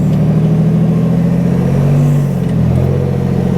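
A rear-steer buggy engine drones loud and close while crawling a rocky Sand Hollow trail, a steady low rumble with a slight shift in pitch partway through.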